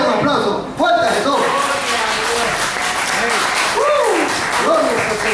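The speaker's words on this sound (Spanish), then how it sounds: "Denle un aplauso fuerte a Jesús." A church congregation applauds in a steady wash of clapping while a preacher's voice carries over it during the sermon.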